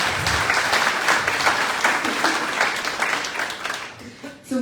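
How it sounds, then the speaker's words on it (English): An audience at a teachers' awards ceremony gives a round of applause, a loud, dense clapping that fills the room and tapers off near the end, with a voice emerging as it fades. "round of applause"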